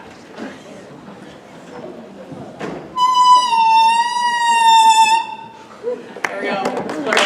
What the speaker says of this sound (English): I'll show you what the mouthpiece sounds like,